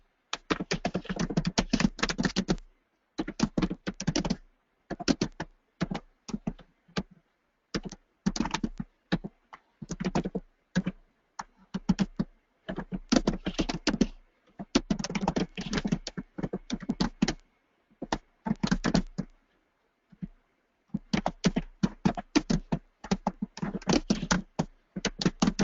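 Someone types code on a computer keyboard, with close, crisp bursts of rapid key clicks separated by brief pauses, continuing for the whole stretch without talk.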